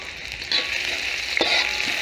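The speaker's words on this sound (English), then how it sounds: "when the oil is hot, put in your onions and your garlic that you chopped earlier" Chopped onions and garlic fry in hot cooking oil in a pan, a close, steady sizzle with crackling bursts and a brief stir near the middle, no voices.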